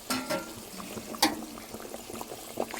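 Fish go into a pot of boiling water on a home stove, bringing soft splashes and bubbling and a brief sharper splash, with low, continuous liquid sounds and no talking.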